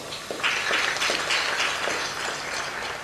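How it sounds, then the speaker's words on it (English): Applause from an awards ceremony audience for a human resources department, a dense, steady patter of many hands clapping at moderate distance, continuing evenly throughout. "I want to also give them a round of applause"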